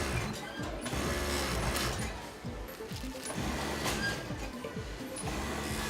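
Sewing machines in a thermal underwear factory's sewing area chatter at a steady, dense mechanical rhythm. Several machines run at once and keep going the whole time, with faint background noise.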